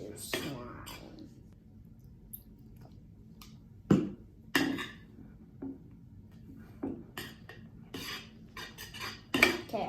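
Slime mixture being stirred with activator in a bowl, giving soft scraping and clinking bursts at intervals over a quiet background, with faint voice sounds between them.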